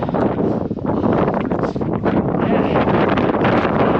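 Strong wind on a mountain top buffets the microphone in a continuous roaring rush, gusting unevenly, with a brief voice at the start.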